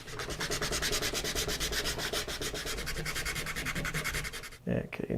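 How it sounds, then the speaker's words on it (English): A wooden guitar bridge is sanded by hand in steady back-and-forth strokes, the loud rhythmic rasp filling the whole stretch up close before a brief pause near the end. "Probably close enough that I can sand some of that now."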